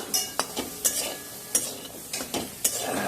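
Cauliflower and onion are stirred in a hot pan over medium gas, a soft sizzle broken by a series of sharp, rhythmic scrapes and knocks of a spoon against the pan, with no talking.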